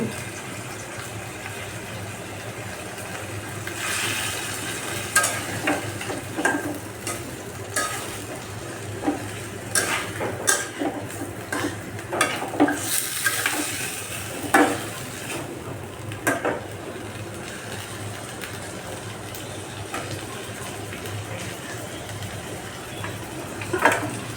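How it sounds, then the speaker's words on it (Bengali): Pre-fried pieces of chicken roast are added to a pan with water and stirred, giving a soft, steady simmering sizzle broken by sharp clinks and scrapes of a utensil against the pan, with no talking. "এখন আগে থেকে ভাজা রোস্টের পিসগুলো দেওয়া দেওয়া হচ্ছে"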